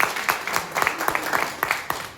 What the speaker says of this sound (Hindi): इतना जल्दी आने के खुशी में सर लोगों के लिए थोड़ा सा ताली बजाइए